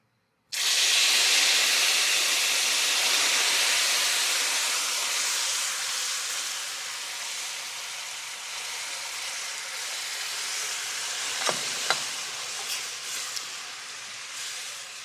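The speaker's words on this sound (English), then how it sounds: "Now, when you add liquid to this hot sugar, be a little bit careful. You can expect a big puff of steam." Hot caramelized sugar meets added liquid, bursting into a loud, sudden steam hiss that holds broad and steady for many seconds, slowly easing with faint crackles and small pops near the end; no voices.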